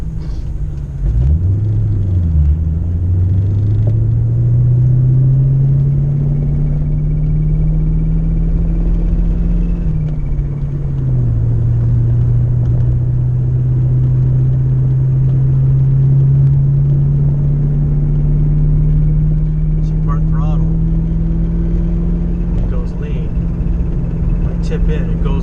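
Ford Mustang engine idling steadily as a low, continuous rumble, with its pitch sagging and recovering around the middle as it stumbles and catches itself during a test; loud and close, with talk over it.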